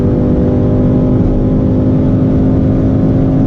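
A 2018 Chevrolet Camaro SS at around 288 km/h, its engine a loud, steady droning roar with a constant hum and heavy low rumble, unbroken for the whole stretch.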